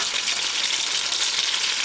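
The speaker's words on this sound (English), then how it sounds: "Remember, we're roasting our vegetables." Roasting vegetables sizzling in an oven, a steady bright crackling hiss that stays even and continuous throughout.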